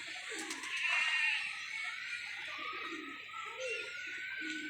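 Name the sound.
pigeon cooing and flying in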